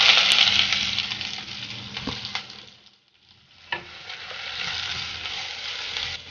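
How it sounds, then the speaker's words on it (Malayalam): Thinly sliced onion frying in a pan sizzles loudly and close up, then drops to near silence for a moment before the hiss and crackle come back strong. "അതിലേക്ക് ഒരു മീഡിയം സൈസിലുള്ള സവാള നല്ല കനം കുറച്ചരിഞ്ഞത് ചേർത്ത് കൊടുക്കാം."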